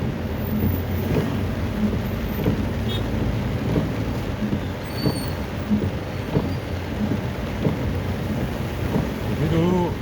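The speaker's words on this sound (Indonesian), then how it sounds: "sebelum kejadian banjir bandang hujannya kayak gini lah" Heavy rain pounds steadily on a road, with thunder rumbling through the downpour, a dense continuous wash of rainfall without voices.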